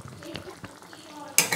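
Pointed gourd curry with sesame seeds and mustard oil being stirred in a pan: a brief, close burst of spoon scraping and soft sizzling, ending in a sharper clatter.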